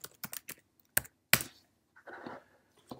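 Scattered keystrokes on a computer keyboard as an IP address is typed, a few sharp isolated clicks followed by a short soft run of typing, fairly quiet and close with no talking.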